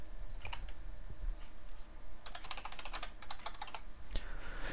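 Keystrokes on a computer keyboard while logging in to a virtual machine, a scattered few clicks early on and then a quick dense burst of typing, close and fairly quiet over a steady low room hum.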